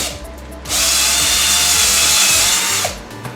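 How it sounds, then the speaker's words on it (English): Power drill boring a hole in a lightsaber prop, a loud continuous whine of about two seconds with light handling clatter before and after. "Now I've got to go drill that hole and then I can glue this all together."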